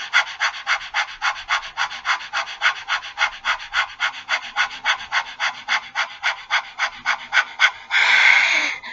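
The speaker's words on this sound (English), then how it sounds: "you do 10 or 50 little panting beats" Rapid, rhythmic panting breaths in a Himsa Kriya breathing exercise, done with the tongue stretched down, about thirty quick even beats close to the mic, ending in one longer, louder breath.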